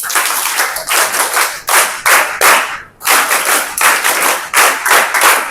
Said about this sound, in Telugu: వాళ్ళందరికీ ఒకసారి మనం క్లాప్స్ కొడదాం